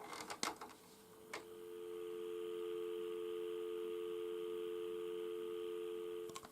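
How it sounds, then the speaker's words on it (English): A steady dial tone hums from a 1980 GPO Mickey Mouse telephone TSR1001A after a few clicks of handling, a quiet continuous drone that holds for several seconds before another click ends it. "so now we should have dial tone"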